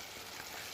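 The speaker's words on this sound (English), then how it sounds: "And then you see it's sizzling." Chicken pieces fry in hot oil with a dense, steady, close sizzle that is moderately quiet and carries no speech.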